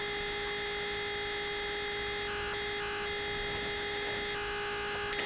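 Dirty, buzzing pulse-width-modulated tone from a modular synthesizer oscillator, a steady harmonic-rich drone with hiss and static-like grit, shifting subtly in texture, loud and continuous with no talk.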